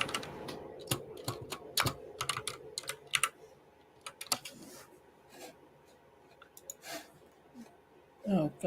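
Typing on a computer keyboard during an online tabletop role-playing session, with quick irregular bursts of close key clicks and pauses between flurries, fairly quiet overall.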